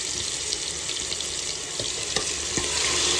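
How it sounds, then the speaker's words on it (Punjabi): Onion paste hits hot oil with cumin in a pressure cooker and fries with a loud, continuous close sizzle, with a few faint clinks over the steady hiss. "ਜੀਰਾ ਲਾਲ ਹੋ ਗਿਆ ਹੈ ਪਿਆਜ਼ਾਂ ਦਾ ਪੇਸਟ ਕੁੱਕਰ ਵਿੱਚ ਪਾ ਦੇਣਾ ਹੈ"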